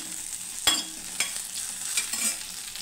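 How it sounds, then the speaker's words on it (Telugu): Cumin seeds and garlic sizzle in hot oil in a pan with a steady frying hiss, stirred a few times to give soft scraping accents. "పావు స్పూన్ అయితే సరిపోతుందండి జీలకర్ర. చూడండి, బాగా వేగాలి."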